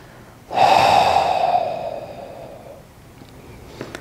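One strong, close intake of breath during a core-strengthening workout move, rising suddenly and fading slowly over a couple of seconds, followed by faint small movement noises and no speech.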